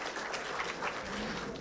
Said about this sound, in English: please give a big round of applause and welcome to sir